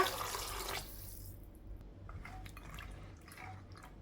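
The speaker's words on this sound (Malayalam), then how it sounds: "ഇതിലേക്ക് കടല മുങ്ങിക്കിടക്കത്തക്ക രീതിയിൽ വെള്ളം ഒഴിച്ചു കൊടുക്കുക" Water pours briefly into a pot of chickpeas with a close splashing rush, then stops, leaving a few faint drips and small clinks.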